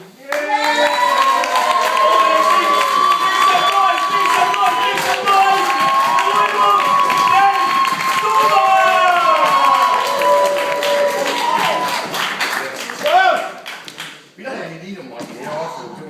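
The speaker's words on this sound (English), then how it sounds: "I want you to start the applause and make some noise" A crowd claps and cheers together on cue at a live show, sustained and loud for about twelve seconds with whoops and voices mixed in, then quickly thinning to scattered claps and a talking voice.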